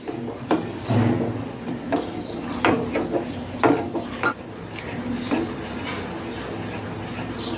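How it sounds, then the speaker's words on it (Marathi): A spoon works continuously through custard powder mixture in a pan, giving repeated scraping and knocking strokes against the metal at an uneven rhythm, fairly close and steady throughout. "याला असं सतत हलवत राहायचं आहे नाहीतर मग कस्टर्ड पावडरचे गोळे होऊ शकतात"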